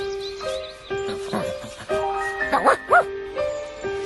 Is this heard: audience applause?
no